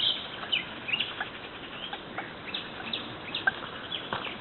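A chicken clucks outdoors near a shore, giving a few brief, light calls spread over the clip against a soft background.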